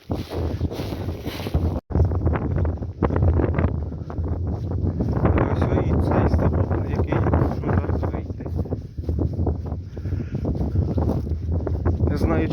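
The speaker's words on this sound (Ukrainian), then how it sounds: "так як зараз дуже сильний вітер" Strong wind buffets the microphone in heavy, continuous gusts near a frozen pond while someone talks in Ukrainian underneath, his voice partly swamped by the roar.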